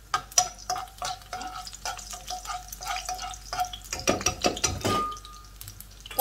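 Meat browns in a pan while being stirred, with clattering scrapes and knocks of a utensil against the metal over a soft sizzle. The sounds come in irregular bursts, close up, with no talking.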